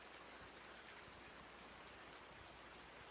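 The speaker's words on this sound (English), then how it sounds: "and it's raining." Steady rain falls in the Farming Simulator 19 video game, a soft, even hiss of drops with no voices, heard quietly and continuously on its own.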